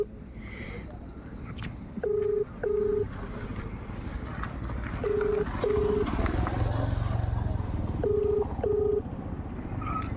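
A phone line on an outgoing call rings back in repeated double bursts, three pairs spaced a few seconds apart, over steady low background noise while waiting for a friend to pick up.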